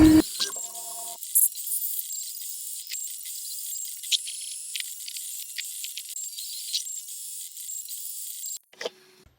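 A 3D printer runs while printing a custom DIY tool part for a Keyport Slide, giving a thin, high whirring and stepping buzz with small clicks and rattles that holds steady and then stops abruptly near the end.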